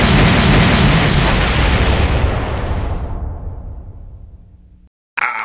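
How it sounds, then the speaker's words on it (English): A loud fire blast effect in a comedy skit roars up at once, then fades out over several seconds. Silence follows before a brief new sound cuts in. "How about a little fire, Madsen?"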